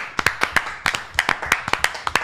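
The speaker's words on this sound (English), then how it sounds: "Round of applause." A single person claps a slow, deliberate round of applause, about a dozen crisp, close hand claps in loose pairs against a quiet room.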